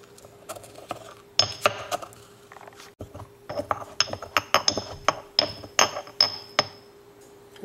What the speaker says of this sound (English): I'm going to add one little dried datil pepper. I'll grind that up.